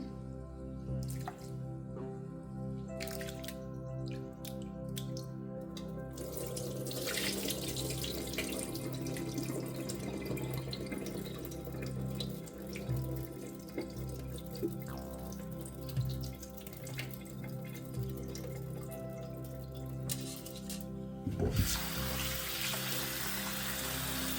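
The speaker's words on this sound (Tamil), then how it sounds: "நல்லா 2 அரிசியை நல்ல வடிவாக வெள்ளையாக கழுவி எடுத்துட்டேன்." Tap water runs steadily into a sink while rice is washed, a close, continuous splashing stream with drips, broken by brief clatters near the start and a sharp knock near the end.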